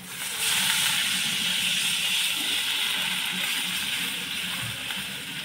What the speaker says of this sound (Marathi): आता यामध्ये पाणी टाकून